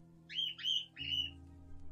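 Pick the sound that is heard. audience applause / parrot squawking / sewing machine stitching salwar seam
parrot squawking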